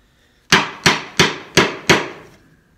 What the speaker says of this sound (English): I'll take a small chisel, like my quarter inch, and just start removing the small ones